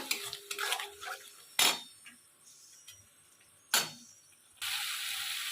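Spice paste for jackfruit dalna being stirred and fried in a pan, with sharp metal spoon scrapes and clanks against the pan, two loud strikes standing out, then a rising hiss of frying at the end.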